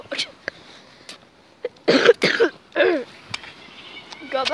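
A few short coughs and throat clearings at a school, close and fairly soft, separated by quiet pauses.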